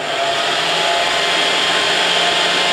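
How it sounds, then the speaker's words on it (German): A hair dryer blows air steadily for the whole clip in a children's church experiment, a loud, even whooshing hum close by with no voices. "Also die Luft wird jetzt aus dem Föhn herausströmen."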